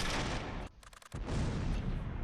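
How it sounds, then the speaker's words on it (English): Mortar and gunfire explosions in the Close Combat III war game, with dense, loud blasts and crackling fire filling the clip and a brief quieter gap near the middle before the barrage resumes. "Those mortars are getting close."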